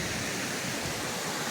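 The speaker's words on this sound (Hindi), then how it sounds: "झरना किस प्रकार कलकलाते हुए पानी बह रही है" A village waterfall in Sevati valley pours water in a steady, dense rushing roar that holds an even level throughout, close and loud with no voices over it.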